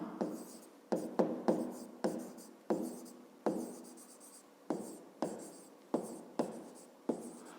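A pen writes on paper during a fifth-grade math exercise, a close, quiet series of short scratchy strokes in irregular bursts, each stroke starting sharply and trailing off, with brief pauses between.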